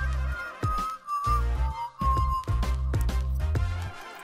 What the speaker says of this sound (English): There you go, that's a nice whistle.